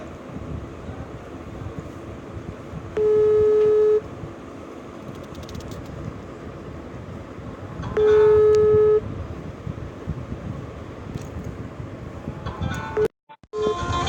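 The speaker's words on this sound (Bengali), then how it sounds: "তো ভিউয়ার্স দেখেন, আমার রিংটোন শুনতে পাচ্ছেন।" Ringback tone of an outgoing call placed through the Brilliant Connect free calling app: two separate one-second tonal bursts about five seconds apart over a breezy, noisy background.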